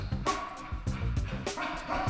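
A dog makes yipping, whimpering noises in several short bursts, close by and fairly clear, with brief bark-like yelps mixed in.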